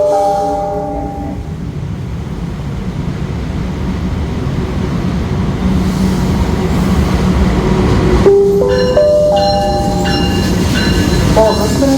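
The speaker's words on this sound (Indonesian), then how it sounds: "Kereta api Arjuna Express tujuan akhir stasiun Malang segera" An Arjuna Express passenger train rolls into Malang station with a steady low rumble and hiss, and a horn-like tonal blast sounds near the end as it comes to a stop.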